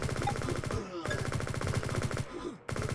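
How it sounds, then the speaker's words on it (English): Rapid, continuous automatic gunfire from the open-source online FPS game Liblast, built in Godot 4, rattling in dense bursts with a couple of brief pauses. "you can be shooting and you can be missing pretty much all the time"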